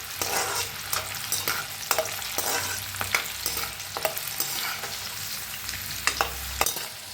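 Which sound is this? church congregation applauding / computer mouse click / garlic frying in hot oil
garlic frying in hot oil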